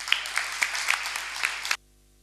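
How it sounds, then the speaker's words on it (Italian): Crowd at a town council meeting in Portogruaro claps steadily and fairly close for under two seconds before it cuts off abruptly into silence. "ti salutiamo con un grande applauso"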